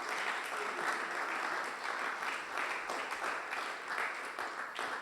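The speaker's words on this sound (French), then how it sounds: "Acclame très fort pour la gloire de Dieu" A church congregation at a Sunday worship and thanksgiving service applauds loudly and continuously, dense clapping filling the room throughout.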